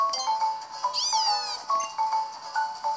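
Litten, the fire-type cat Pokémon in Pokémon Ultra Sun, gives its short synthesized meowing cry, a rising and falling electronic mew heard over a bright, looping game melody with steady chiming notes.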